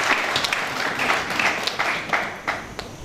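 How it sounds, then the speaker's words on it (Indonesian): Moderate applause from a congregation at a theological seminary graduation ceremony, a steady bed of clapping with a few sharper claps popping out, fairly close and without speech over it. "Mari kita tepuk tangan"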